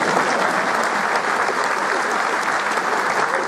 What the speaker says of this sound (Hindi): तालियां इसलिए बजवा रहा हूँ क्योंकि बाद में भरोसा नहीं है